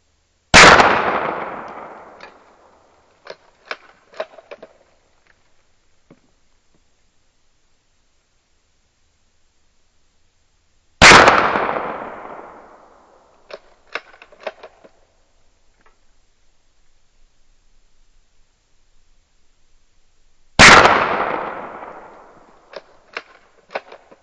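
Three loud, sharp gunshots from a Savage MKII F .22 bolt-action rifle, spaced about ten seconds apart. Each is followed by a quick series of faint metallic clicks from the bolt being worked.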